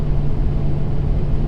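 A 2017 Ford 6.7 Powerstroke diesel pickup towing about 30,000 lbs with an excavator on the trailer, heard as a steady low engine drone and road rumble, mixed with buffeting from strong wind.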